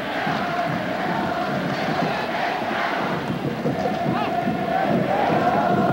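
Football supporters roar in a stadium during a Shimizu S-Pulse match, a continuous wall of crowd noise with chanting swells under a commentator's voice.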